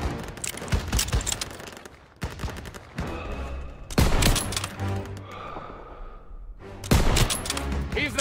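Bursts of gunfire from Call of Duty WWII gameplay in a courtyard battle, several loud volleys and automatic fire separated by brief pauses, with shouted squad callouts mixed in.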